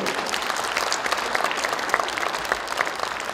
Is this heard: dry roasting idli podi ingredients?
no